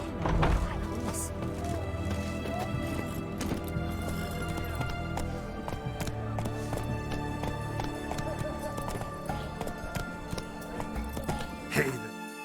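Horse galloping in The Witcher video game, rhythmic hoofbeats running steadily under game music and ambience, with a voice speaking over it.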